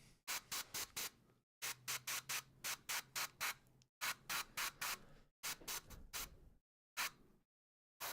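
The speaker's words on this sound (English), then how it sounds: "And now we're doing some airbrushing." An airbrush sprays paint onto a vehicle panel in short, repeated hissing bursts separated by brief pauses, heard close up and alone.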